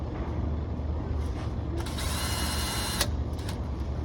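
Brad point drill bit scoring a cabinet door through a template, a faint whirring and grinding with brief bursts of higher whine, close under a low background hum.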